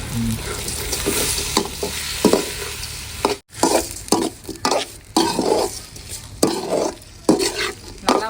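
Ripe tomatoes sautéed in a pan while cooking a country chicken curry, loud close sizzling broken by repeated irregular scrapes and clatters of a spatula stirring, with one brief silent gap.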